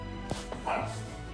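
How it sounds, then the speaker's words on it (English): A few quick dog barks ring out in the background, short and sharp in succession, over a low steady hum. "I'm sorry if you can hear my dogs in the background."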